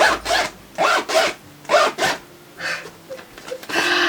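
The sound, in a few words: bag zipper being opened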